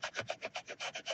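A plastic knife rubs firmly back and forth over tape, producing about nine quick, rhythmic scraping strokes, close and faint.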